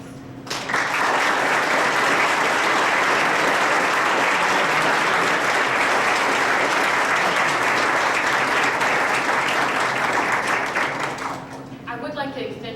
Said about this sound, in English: Please join me one more time as we applaud tonight's honorees.